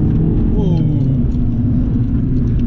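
A Stage 1 tuned Abarth 595 pulls in second gear, its engine a steady, loud low drone with a rising growl inside the cabin.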